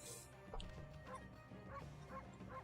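Cartoonish dog barks from the Okami video game, a few short yips repeating in a steady rhythm over game music, fairly clear and close.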